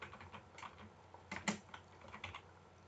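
Someone types on a computer keyboard, with quiet irregular key clicks in short bursts and a slightly louder tap near the middle, faint and close with no talking.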